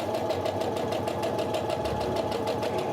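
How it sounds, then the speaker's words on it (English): A sewing machine runs steadily while stitching the final reinforced seam of a pillowcase, a continuous close mechanical whir with a fast even needle rhythm and no talk. "I'm just going to stitch around the side that is stitched one more time"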